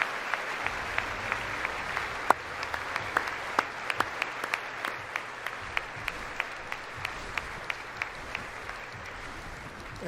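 A State of the Union audience keeps clapping, a continuous mass of hands punctuated by crisp, separate claps standing out every half second or so, heard from a distance at steady volume.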